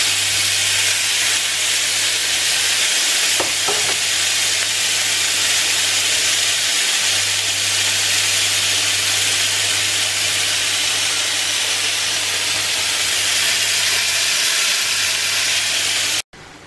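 Gnocchi cooking in a pot give off a steady, loud hiss of boiling water with a low hum underneath, continuous and unbroken, with one or two faint knocks from stirring.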